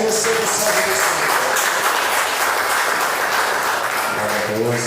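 A church congregation claps loudly and continuously in a dense, sustained wash of applause, with a few voices mixed into the crowd noise.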